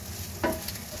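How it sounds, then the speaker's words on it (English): Vegetable fried rice stir-fried over high heat gives a soft, close sizzle with one brief scrape of stirring. "put it on a high heat and really stir it continuously for 3 to 4 minutes"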